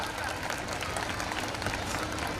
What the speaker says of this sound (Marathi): सगळ्या ताई एकदा जोरात टाळ्या वाजवा